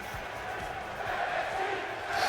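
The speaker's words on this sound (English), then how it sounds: "All right, the crowd is into it here." A wrestling crowd at a BCW Saturday Slugfest main event cheering and chanting, a loud, dense roar from a large audience that grows slightly toward the end, with a faint voice underneath.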